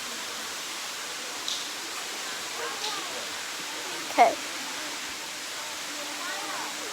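A real outdoor waterfall roars as a steady, even wash of falling water, with a few faint knocks and a brief voice speaking over it.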